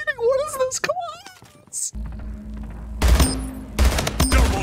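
Rapid video game gunfire: after an excited voice shouts, two loud clusters of close-range shots rattle in quick bursts, each a dense string of sharp cracks.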